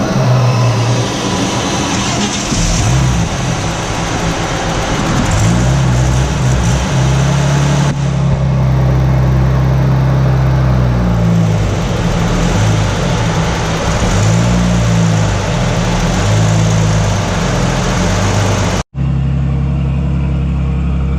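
A turbocharged Nissan VK engine car fitted with a race exhaust runs loud and steady, a deep continuous drone holding for about nineteen seconds before cutting off abruptly, with a brief burst of sound after.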